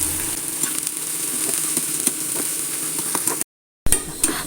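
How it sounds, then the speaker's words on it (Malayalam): Onions fry in coconut oil in a pan for chicken chukka, giving a continuous close sizzle with small crackles and occasional stirring clicks, broken by a brief silent gap near the end. "സവാള ഒന്ന് വറുത്തെടുക്കാം അതിന് ഞാൻ വെളിച്ചെണ്ണയിലാണ് വറുക്കണത്"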